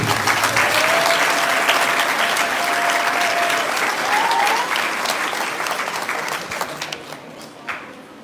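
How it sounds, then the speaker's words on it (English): Audience at a primary school awards ceremony claps for a student, a dense, sustained round of applause that tapers off near the end. "And now we can applaud Edlin."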